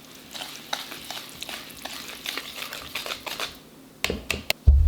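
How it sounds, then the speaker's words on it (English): Wet ingredients being stirred into dry for an orange cranberry bread batter, a soft, steady scraping and swishing of a spoon through thick mixture in a bowl, with a few sharper taps near the end. "Stir that together until it's just combined."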